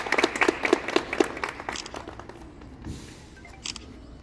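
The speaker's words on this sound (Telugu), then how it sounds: "చప్పట్లు కొట్టి అభిమానిద్దాం." A crowd claps at a Republic Day honouring ceremony at the TSRTC JBS bus station in Secunderabad; a burst of close, brisk applause fades out after a couple of seconds into quieter background noise.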